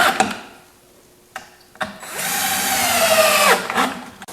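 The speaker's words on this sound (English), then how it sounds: "I'm putting the birdseed tube together with deck screws" Power drill driving deck screws into a marine plywood bird feeder tube, with a few brief clicks and short whirs before a sustained loud drilling burst of about one and a half seconds, close by.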